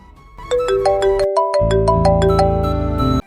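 A loud, close phone ringtone for an incoming call in an animated cartoon plays a bright melodic sequence of rising and falling electronic notes over a buzzing backing, then stops abruptly.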